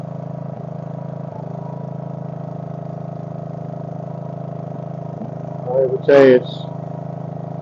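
Case 224 garden tractor engine running a wood splitter at about 2,600 to 3,200 rpm, a steady mid-pitched idle-like drone with faint periodic knocks, and someone speaking briefly over it near the end.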